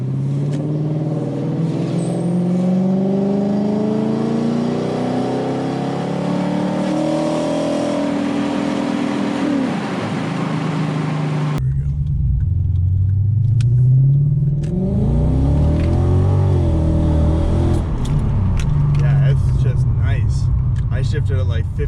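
A car's engine climbs steadily in pitch as it accelerates at half throttle, drops sharply at a gear shift, then pulls up again through the next gear, loud and close from inside the cabin with speech over it.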